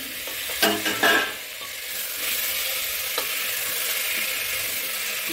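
A spoon stirs chana matar curry in a pan after chopped tomatoes go in, with a few close scraping strokes over a continuous sizzle of frying.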